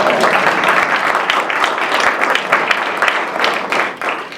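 A church congregation at a community awards event claps with an uneven, loud rhythm that swells and dips over four seconds, with little talk audible.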